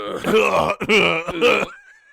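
Three rough, throaty coughing grunts in a row from a voiced Kamen Rider character, harsh and close, followed by a faint trailing tone.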